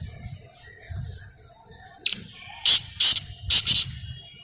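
A black kite calls while circling overhead among birds at a rural home, giving several short, sharp high calls in quick succession against a low background murmur of other birds.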